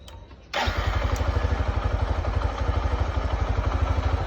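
A motorcycle engine fires up after a quiet moment, then settles straight into a loud, close, evenly pulsing idle that thumps steadily to the end.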